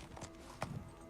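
Horse hooves clip-clopping in a short, uneven burst, with one sharper hoof strike standing out above a low background.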